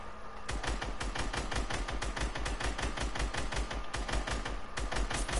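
Sustained automatic gunfire in a shooter game, with fast, evenly spaced shots rattling on almost without pause for several seconds, loud and close, with no speech.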